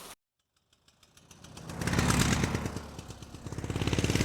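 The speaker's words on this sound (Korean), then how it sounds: "엔진을 억지로 쥐어짜는 듯한 머플러 달린 오토바이의 소리였죠" A motorcycle engine starts low, then revs up into a loud, throaty roar that dips and surges again, with a rough muffled exhaust rattle.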